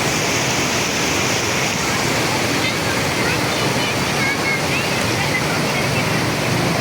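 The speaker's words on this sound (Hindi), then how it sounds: "बहुत ही खूबसूरत झरना है ये, बेहद खूबसूरत है।" Waterfall near Taobat in Kashmir, a steady broadband roar of falling water that stays close and loud throughout without a break.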